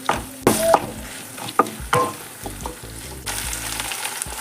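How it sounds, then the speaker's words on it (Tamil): Ginger garlic paste roasting in a pan for Pallipalayam mutton varuval, a loud close sizzle and crackle with sharp spoon scrapes and clinks against the pan, no voices. "நல்லா இஞ்சி பூண்டு பேஸ்ட்டோட பச்சை வாசனை போகிற வரைக்கும் ஒரு நிமிஷம் நல்லா ரோஸ்ட் பண்ணிடுங்க."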